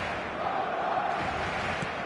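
Stadium crowd in an eFootball video game match as players walk out, a steady, dense roar and chant of many fans, continuous and fairly loud throughout.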